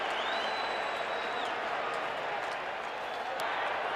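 Stadium crowd roaring in a steady, loud wash after a penalty flag against the Bears at a 1985 Bears–49ers NFL game, the broad noise holding for several seconds with a brief whistle-like tone early on.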